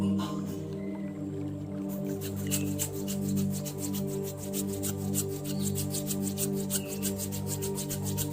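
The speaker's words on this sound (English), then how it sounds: "Now rub your hands together for 10 seconds." Two palms rub briskly together during a guided meditation, a steady dry swishing friction that runs without a break, close up over a low sustained musical drone, with no speech.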